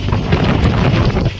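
Strong sea wind buffets the microphone aboard a fishing boat near Simbar port, a loud, steady roaring rumble that continues without a break and with no one speaking.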